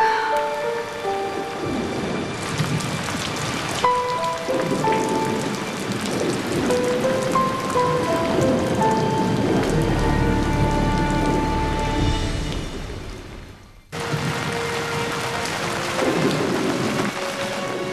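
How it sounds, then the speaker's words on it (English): Steady rain pours down with rumbling thunder rolling through, loud and continuous for the full length, briefly dropping out near the end before the downpour resumes. "Is it still raining?"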